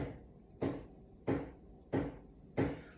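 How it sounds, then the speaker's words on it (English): Bathroom remodeling work thumps from another room in a steady series of five dull, muffled knocks spaced about two-thirds of a second apart, moderately faint and with no talking. "They actually remodeling my bathroom, so if y'all hear them knocking and stuff, y'all excuse that."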